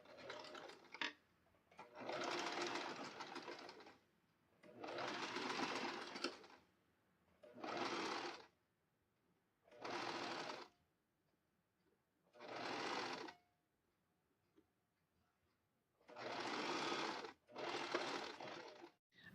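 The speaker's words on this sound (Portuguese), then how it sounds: "vou passar uma costura aqui na beirada" Sewing machine stitching along the edge of a facing on pantacourt pants, running in seven or eight distinct bursts of steady whirring separated by short pauses, close and clear with no talking.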